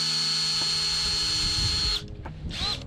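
A power drill whines steadily as it bores into a plastic Fanta bottle, then cuts off near the end, leaving a brief rising tail and soft handling noise.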